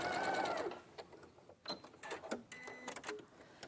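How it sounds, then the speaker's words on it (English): Domestic sewing machine running a line of top stitching around a curved edge, about a centimetre from the fold, in short stop-start bursts with brief pauses between runs, fairly close and moderately loud. "it's just top stitching around the curve only"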